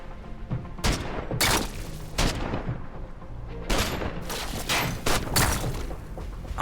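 Soldiers trading gunfire in the tactical game Every Day We Fight: repeated loud volleys and bursts of shots with short pauses between, some booming impacts mixed in.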